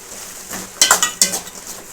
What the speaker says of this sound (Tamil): கொஞ்சம் நேரம் வதங்கட்டும் நல்லா கொஞ்சம் வதங்கிருச்சு